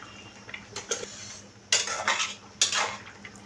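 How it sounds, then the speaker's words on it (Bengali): Chopped tomato stirred in a pan for an okra curry with kalonji paste, heard as a few distinct metal spoon scrapes and clatters against the pan under a faint background hum. "টমেটো কুচি দিয়ে একটু নাড়াচাড়া করে দিব"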